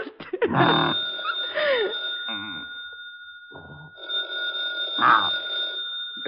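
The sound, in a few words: telephone ringing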